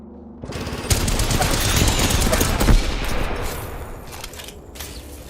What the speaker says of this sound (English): Firing. Take fire.